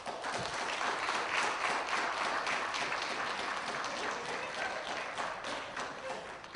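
A lecture audience applauds as Professor Griff is welcomed as guest, a dense, steady wash of many hands clapping throughout, fading slightly toward the end.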